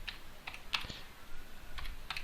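Quick, light keystrokes on a computer keyboard tap out a few scattered clicks in a short burst, close by and fairly quiet, with no talk.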